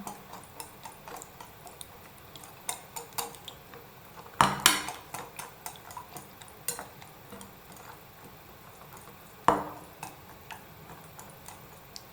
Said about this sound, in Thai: ตีผสมให้เป็นเนื้อเดียวกันนะคะ